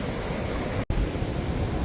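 Sea waves washing onto a shore beside beach cottages, a steady broadband wash with wind, heard alone and fairly loud, briefly cut by a short dropout near the middle.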